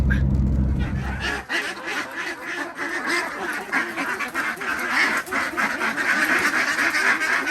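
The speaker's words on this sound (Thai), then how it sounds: "เดี๋ยวเราไปดู ปล่อยเป็ดกันก่อนดีกว่าเนาะ" Many Khaki Campbell laying ducks quack continuously in a noisy, overlapping chorus as they are released, close and loud, after a brief low rumble at the start.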